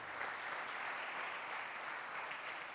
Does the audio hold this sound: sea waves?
no